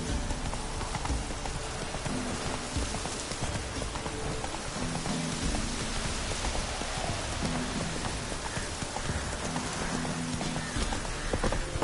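Steady clip-clop of the horse Roach's hooves in a video game, an even continuous trot close by, mixed with a constant hiss like rain falling on the ground.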